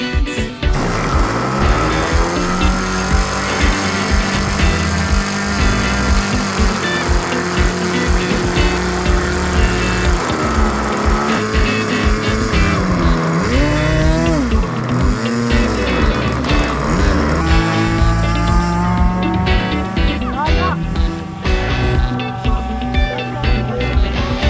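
A model aircraft engine at a Chillán aeromodelling festival screams loudly as the throttle opens, a harsh high buzzing whine that surges and sweeps in pitch over about twenty-five seconds, close and continuous.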